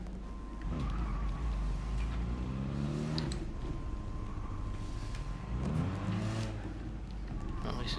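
A Formula 1 car engine in a PS4 racing game revs up and down in two rising sweeps, with a steady idle hum in between, mixed under other game noise and voices.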